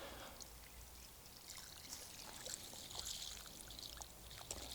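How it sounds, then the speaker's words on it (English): Garden hose rinsing excess sand off a sculpture, a steady close wash of splashing, trickling water that runs throughout. "a hose pipe is a fantastic way of removing this excess sand. And you'll see here, as I give it a quick rinse"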